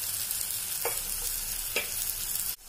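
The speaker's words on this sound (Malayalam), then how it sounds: "ഇനി നമുക്ക് തക്കാളി ഇതിലേക്ക് ആഡ് ചെയ്യാം. എന്നിട്ട് നന്നായി മിക്സ് ചെയ്യാം." Tomatoes fry and sizzle in a pan with ginger and garlic while being stirred for a soy chunks roast, a steady close hiss with two brief scraping stirs.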